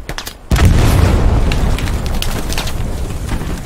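A tank blowing up in the World War II shooter game Hell Let Loose, a sudden loud boom that rolls into a long, heavy rumble.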